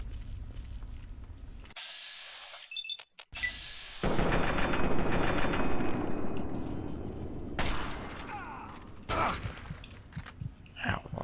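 Sniper rifle fire in Fallout 3 combat, with sharp reports and scattered bursts of shots against a dense rumble of action. Loudness varies, rising after a brief gap.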